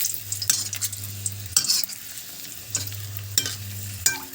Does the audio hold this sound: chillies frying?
yes